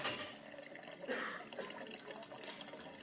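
Water flowing through a Reynolds experiment apparatus as the flow rate is raised, a steady close rushing and splashing with no speech.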